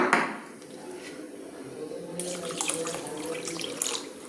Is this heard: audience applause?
no